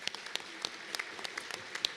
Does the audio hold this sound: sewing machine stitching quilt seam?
no